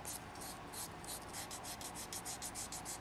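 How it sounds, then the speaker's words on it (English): Nail buffer rubbing rapidly back and forth over fingernails, a soft rhythmic scratchy swish repeating in quick strokes, quiet and close with no talking. "I'm just going to be buffing her nails, preparing for the design, so that when we design, everything is as smooth as possible"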